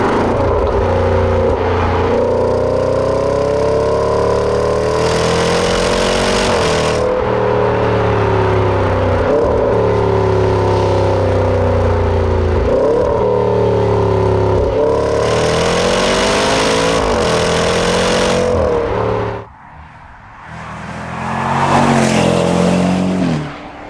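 A Jaguar F-Pace SVR engine roars loudly, climbing through the revs in repeated rising pulls with shifts between them, then dropping off briefly before surging again near the end.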